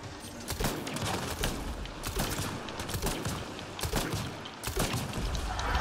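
Rapid bursts of gunfire from Mass Effect: Andromeda rattle almost without pause, sharp cracks over a dense layer of combat noise, with no one talking.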